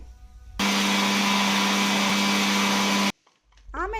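A mixer grinder churns curd cream with water for butter, a loud steady motor whine running for about two and a half seconds before cutting off abruptly, followed by a brief quiet and faint rattling.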